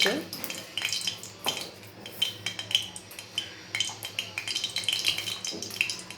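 Bay leaf and whole garam masala spices dropped into hot oil in a wok, sizzling close up under repeated clinks and scrapes of a metal spoon against the pan.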